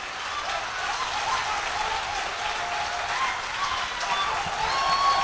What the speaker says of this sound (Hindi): आपके आने वाले कल में आपके सम्मान में ताली बजाइए